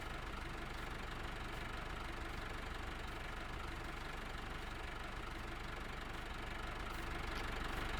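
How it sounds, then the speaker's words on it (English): A tractor engine idling in Farming Simulator, a steady, dense mechanical drone with a knocking texture that holds unchanged for the whole stretch, with no voices over it. "Better get round the back and make sure the tractor's alright. I left it running,"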